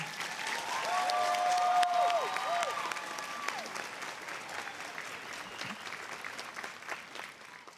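Audience applause for graduates at a university commencement ceremony, a broad sustained clapping from a large crowd that swells early then gradually thins, with a brief voice tone near the start.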